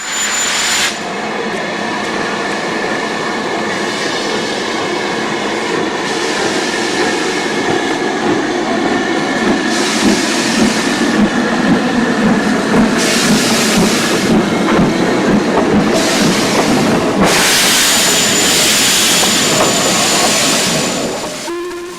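A loud steam locomotive, Leander, a Stanier engine, rumbles past close by at Dronfield, with a steady roar, rhythmic clanking of wheels and surges of noise as the carriages go by.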